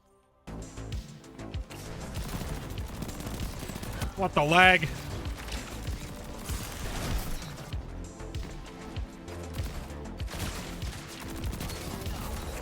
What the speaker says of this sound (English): We're going to try the SMG for a little bit.